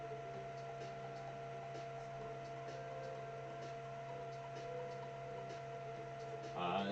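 A Creality Halot 1 resin 3D printer printing an electromagnet holder, giving a faint, steady mechanical hum with soft ticking, quiet and continuous, before a brief louder rustle at the end.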